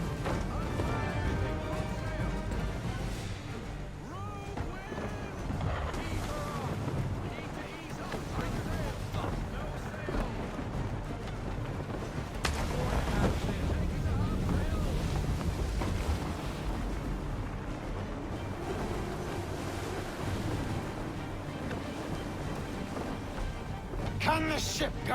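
A sailing ship surges across the ocean in Assassin's Creed III, with a continuous roar of wind and water rushing past, plus thumps and creaks from the vessel beneath talking voices.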